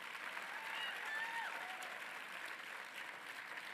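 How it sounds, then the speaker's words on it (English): Applause from the audience at a parents' townhall in Iowa, a steady patter of many hands clapping with faint cheers or whistles mixed in, moderately distant and fairly quiet overall. "So please give yourselves a round of applause."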